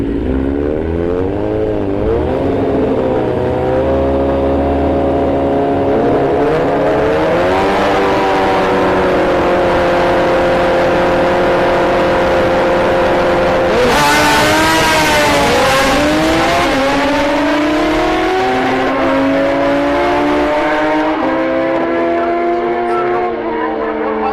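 A nitrous-equipped drag racing car launches down the right lane at Orlando Speed World, engine screaming and rising through successive gear changes, loud and close, with another surge of revving midway and faint talk underneath.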